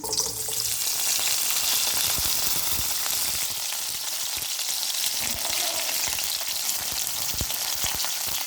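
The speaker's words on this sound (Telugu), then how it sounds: "ఈ ఆయిల్లోకి ఉల్లిపాయలు, కరివేపాకు అయితే వేసుకుందాం." Onions and curry leaves fry in hot oil for chicken and egg fried rice, giving a loud, dense, steady sizzle that crackles continuously with no voices.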